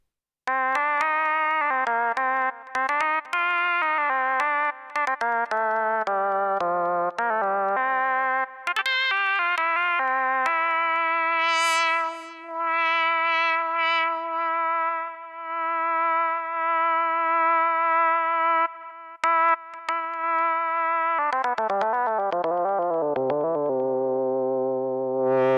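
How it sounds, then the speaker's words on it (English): Steinberg Nanologue mono synth on an iPad, played one note at a time through valve-style distortion, giving a buzzy, harmonically rich lead line with gliding pitches and long sustained notes, loud and alone. "A mono synth. You're going to play one note at a time."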